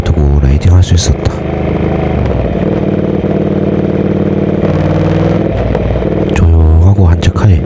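Motorcycle riding along the Geum River in Korea, its engine droning loud and steady close by, with rougher revving bursts near the start and end.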